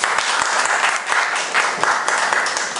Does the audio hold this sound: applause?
yes